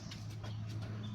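A Sirazi pigeon on a poultry and pigeon farm coos softly in a few short, faint pulses over a low, steady background hum.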